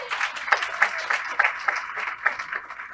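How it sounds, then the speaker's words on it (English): An audience at a Tiger Bay Club political discussion applauds, a steady patter of many hands clapping at moderate volume with voices faintly mixed in. "please give her a quick round of applause"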